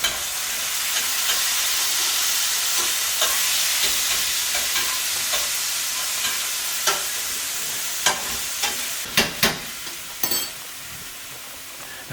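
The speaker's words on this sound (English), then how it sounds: "we're going to let them start to simmer a little bit in that coconut oil." Chilies and garlic sizzling in coconut oil in a pan: a steady bright frying hiss throughout, with a few louder spits and pops near the end, no talking.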